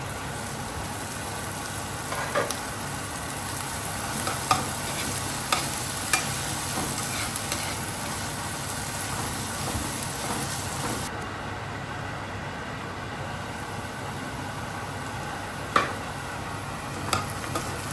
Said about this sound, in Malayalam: ഇനി നമുക്ക് പതുക്കെ ഒന്ന് ഇളക്കി കൊടുക്കാം.